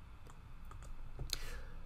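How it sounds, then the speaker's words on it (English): A few soft, light clicks of fingers pressing calculator keys, spaced irregularly over a quiet room background. "Let's practice typing this into our calculator."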